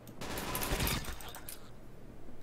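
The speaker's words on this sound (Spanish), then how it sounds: "Luego pegas 300 tiros, como le está pasando a Pepe, y no muere" Rapid gunfire in the Roblox game Arsenal rattles off in a dense burst of shots, then thins out into a few scattered cracks.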